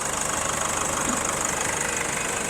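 A 2018 Nissan Navara's 2.5-litre VGS Turbo diesel engine idling steadily with a continuous rough clatter and knock, heard up close with no talking.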